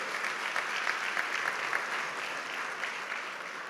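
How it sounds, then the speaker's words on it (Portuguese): A church congregation applauds steadily throughout, a dense, even roomful of clapping heard at moderate distance with no talk over it. "Uma salva de palmas para os que nos servem a cada domingo."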